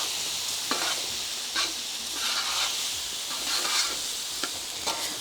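Meat frying in a pan for paella, a steady close sizzle with soft scraping stirs and occasional clinks of a utensil against the pan, no talking.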